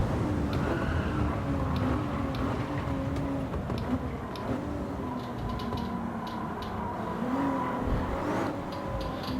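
A race car engine drones steadily through a circuit lap in Gran Turismo 7, its pitch rising and falling through gear changes, with occasional faint tyre squeal, continuous and fairly loud throughout.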